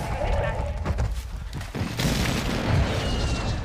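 Gunfire and booms in a multiplayer shooter video game, a dense run of muffled shots and low thuds with scattered bursts, heard continuously with a few sharper cracks.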